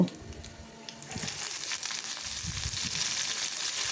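Mustard seeds, cumin, urad and chana dal, dried red chillies and curry leaves sizzle in hot oil for a mango roti pachadi tempering, a steady close crackling hiss with faint pops and no talk.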